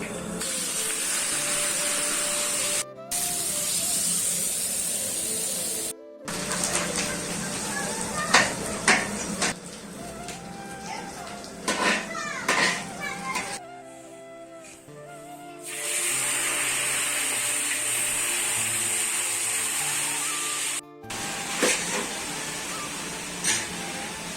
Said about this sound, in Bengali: এখন চিংড়ি ভেজে নেবো